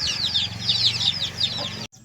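A native country hen, mother of eight chicks, gives a quick series of rhythmic clucks close by, ending abruptly after about two seconds.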